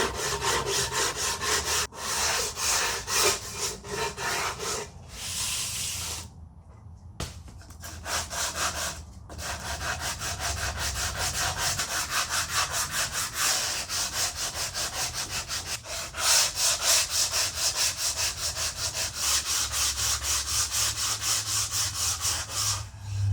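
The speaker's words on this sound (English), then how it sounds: "I'm just going to take a sanding block with some 120 grit, clean up the edges" A sanding block with 120-grit paper is rubbed along the wooden edges of a jewelry box in steady back-and-forth strokes. The scratchy rasping is close and continuous, with a few short pauses partway through.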